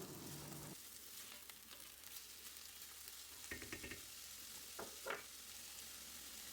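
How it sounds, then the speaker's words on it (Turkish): Faint, steady sizzling of onions frying in a pan with leftover oil from frying eggplant, with a few brief scraping stirs and clicks now and then. "Şimdi hemen soğanı kavuruyorum."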